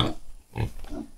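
A wild pig grunts in short bursts at a farm in Jagna, Bohol, two or three close, rough calls separated by brief pauses.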